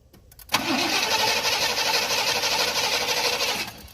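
A 1988 Chevy truck engine is cranked after fuel is added. It gives one loud, close, continuous churning burst of about three seconds, then cuts off without settling into an idle.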